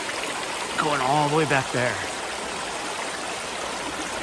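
A desert creek near Palm Springs rushes steadily after a rainstorm, a close, continuous wash of flowing water. A person speaks briefly over it.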